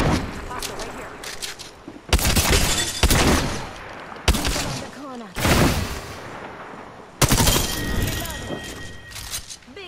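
Rapid bursts of video game gunfire in a battle royale match, loud clustered shots and impacts in several volleys, with in-game voice callouts talking over the action.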